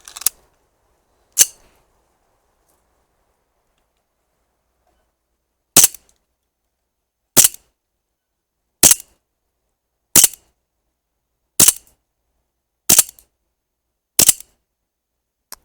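Sharp, isolated pops from a Sig Sauer 1911 We The People CO2 air pistol firing 4.5mm BBs on a well-used gas cartridge, nine shots in all, spaced a second or more apart, with silence between them.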